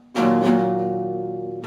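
A single strummed guitar chord rings out after a sharp attack and sustains evenly, with a fresh strum hitting just at the end; no voice is heard.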